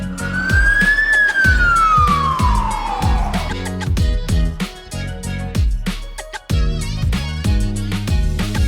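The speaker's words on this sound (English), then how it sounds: "Fire truck." Fire truck siren wailing: one long tone climbs and then falls, heard over a loud, rhythmic musical backing that continues after the wail fades.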